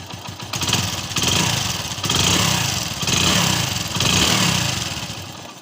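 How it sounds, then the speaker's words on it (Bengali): A Hero Passion Pro motorcycle engine running after a full engine rebuild, close and fairly loud, with a steady mechanical drone that swells and eases in several regular revs. "আমাদের ফুল ইঞ্জিন ফিটিং হয়ে গেছে। এবার সাউন্ড দেখো ফ্রেন্ড"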